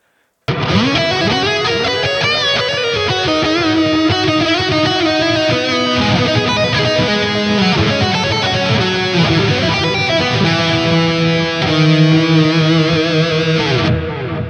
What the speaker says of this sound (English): Let's turn on our reverb here.